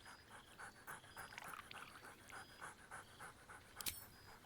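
A dog pants rhythmically in quick, faint breaths and gives a few soft whines in the Baldur's Gate 3 video game, steady throughout with a sharper sound near the end.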